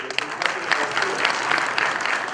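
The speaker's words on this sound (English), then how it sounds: "How about a round of applause for our university here?" Audience at a geology conference closing ceremony clapping for the host university, brisk irregular handclaps from a moderate-sized crowd, close and lively, with faint murmuring underneath.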